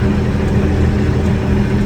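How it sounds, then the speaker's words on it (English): A big farm tractor engine runs steadily at idle, a continuous low rumbling drone close by, with no talk over it. "All right, I'm in the big tractor here now."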